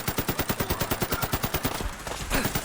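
Rapid automatic gunfire from a modded weapon in Fallout 4, a fast steady stream of loud, punchy shots at an even rhythm, with a brief break and then more bursts, and no talk.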